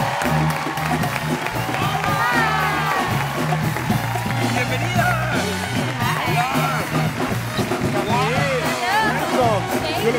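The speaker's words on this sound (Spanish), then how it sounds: "Recibamos con un fuerte aplauso para Camil Bálsamo y Malaysia Pargo" A studio audience on the late-night show Noches con Platanito claps and cheers as guests Camil Bálsamo and Malaysia Pargo arrive, with steady applause and whoops under music throughout.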